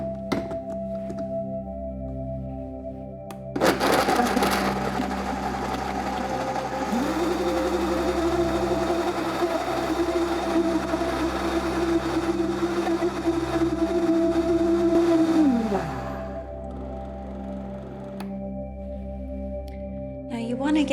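Blender mixing lemon ginger wellness shots, kicking in with a thunk and running for about twelve seconds in a steady, loud whir before winding down, over a faint background hum.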